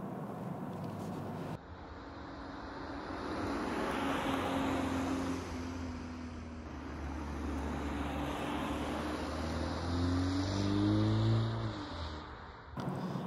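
A BMW 330i Touring M Sport G21 with a four-cylinder engine accelerating, its engine note rising in pitch as it builds speed, heard steadily from inside the car with road and wind noise beneath, no speech.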